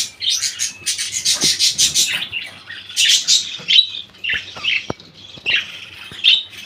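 Several pet birds, including chicks, squawk and chirp close by in quick, repeated bursts while eating water spinach, shrill and busy, with brief pauses between flurries.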